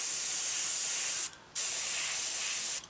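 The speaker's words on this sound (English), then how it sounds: "Come on, start spraying through." A steady, close hiss of an airbrush spraying paint onto a 1/48 scale Brewster Buffalo model kit, cutting out briefly once before resuming at the same level.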